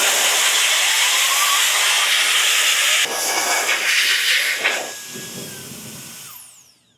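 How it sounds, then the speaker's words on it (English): A Rodex air blower dusting out a computer gives a loud, steady high-pitched rushing hiss that changes tone as it shifts, then tapers off and winds down to silence at the end. "this blower from Rodex is a beast"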